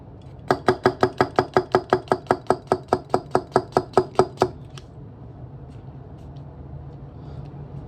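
A Niigata 210mm SLD steel gyuto slices through a tomato in a quick, even run of about twenty crisp cuts, each landing as a sharp tap on the board, then the slicing stops and only quiet room tone remains.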